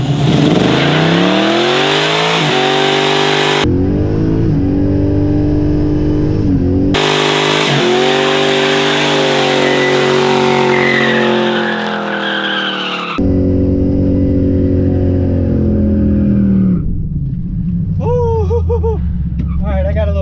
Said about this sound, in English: we got a little happy with the burnout